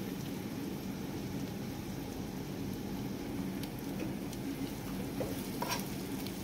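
Curry leaves fry with chopped onion in a pan of oil for dal khichdi, giving off a steady, even sizzle and crackle. It runs quietly and without a break the whole time, with faint light clicks on top.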